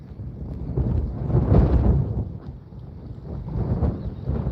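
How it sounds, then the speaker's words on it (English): Wind gusting outdoors on open water while bass fishing from a boat, a loud low rumbling roar that swells and eases across the clip, close to the microphone with no talk. "And now that wind is blowing."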